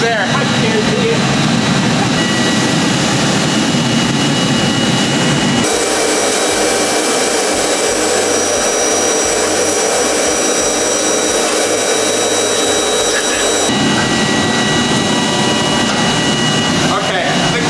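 Forced air roaring steadily through a charcoal forge in a blacksmith's shop during Damascus steel work, a loud continuous rushing blow that shifts in tone partway through and keeps going throughout.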